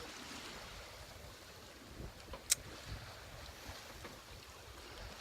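Steady wind rushes and buffets on a boat at sea near the Similan Islands, a continuous hiss with one sharp brief tick midway, no voices.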